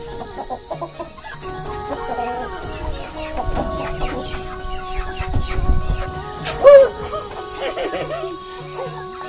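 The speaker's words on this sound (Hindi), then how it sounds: "तो हम ये मुर्गियों को ये दे रहे हैं अमरूद, और ये देखिए कैसे कर रहे हैं खाने के लिए।" Several chickens clucking and squawking close by as they peck at guava, busy overlapping calls with one louder squawk near the end, and a person speaks briefly in the background.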